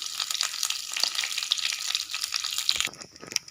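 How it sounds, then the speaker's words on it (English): Mustard seeds crackle and pop in hot oil in a kadai alongside red chilies and curry leaves, a dense steady sizzle with sharp scattered pops that thins out near the end. "When the mustard starts cracking,"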